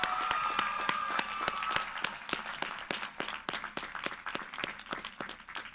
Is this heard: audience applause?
yes